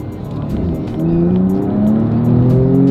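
A new all-black car's engine accelerating, loud and close, with rising revs climbing steadily through the gears over a few seconds, heard alone without talk.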